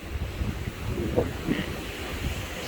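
Wind buffets the microphone aboard a cruise ship at sea while ocean waves wash below in a steady, moderate rush with no talking.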